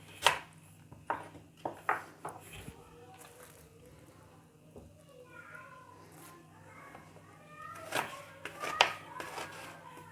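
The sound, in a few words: knife chopping onion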